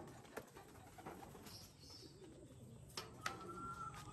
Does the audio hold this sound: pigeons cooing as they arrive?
yes